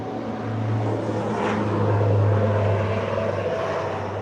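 An airplane flies over Tokyo on a clear day, making a steady, droning engine hum that swells slightly as it passes overhead and holds at a constant level throughout.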